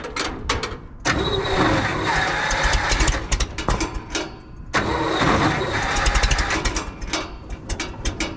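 Old heavy equipment engine cranking and trying to catch, with repeated loud churning starter bursts and sputtering engine noise that surges and drops, a brief pause near one second and again near five.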